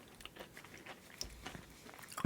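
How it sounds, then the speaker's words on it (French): Crunchy dark chocolate from Bayonne is bitten and chewed up close, with soft crackling chews building to a louder crunch at the end. "Et c'est croquant."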